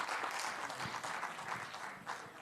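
Audience applause at a literature festival poetry recitation, a dense wash of many hands clapping together, fairly faint and steady for a couple of seconds.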